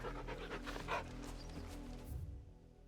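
A hound panting in Final Fantasy XVI, quick rhythmic breaths up close over low game ambience that fade out after a couple of seconds.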